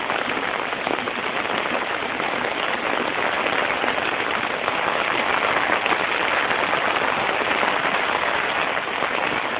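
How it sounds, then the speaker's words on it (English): Water pours steadily off a flooded roof during heavy rain, a dense and continuous rushing wash with a few faint clicks. "There's a lot of water being tossed over my roof."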